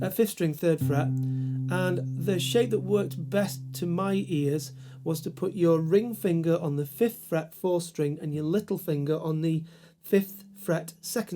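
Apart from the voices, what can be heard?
No everyday noise stands out behind the speech.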